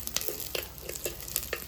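Chopped onions and a couple of sprigs of curry leaves fry in a pan for a Mangalorean prawn curry, a faint sizzle broken by soft, irregular stirring scrapes.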